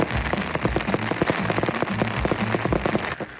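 Massed firecrackers at a temple procession festival crackle in dense rapid bursts, a loud continuous rattling barrage with no pauses throughout.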